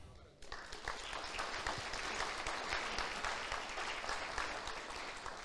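A church congregation applauding together: dense, sustained clapping from many hands that starts abruptly and holds steady for several seconds, filling the room, with no voices over it.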